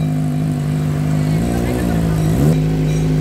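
A Kawasaki ZX-25R motorcycle with an aftermarket SC exhaust revs with a steady harmonic drone, rising sharply in pitch near the end before settling back, loud and close.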